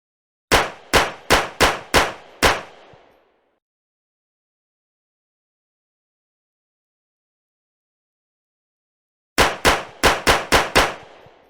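Green gas replica firearm fired in two quick bursts of about six sharp metallic cracks each, loud and close, separated by several seconds of silence.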